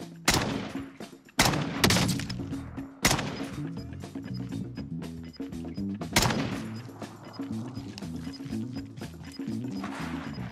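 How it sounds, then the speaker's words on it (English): Video game gunfire: sharp, loud single shots and bursts cracking over a steady, droning backdrop, spaced irregularly with several heavy reports across the stretch. "Oh, you're being shot from above."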